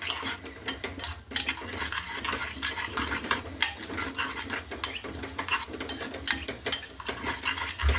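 A metal spoon stirs a mixture of black salt in a bowl, busy scraping and clinking strokes repeating rapidly and close up, with no voices.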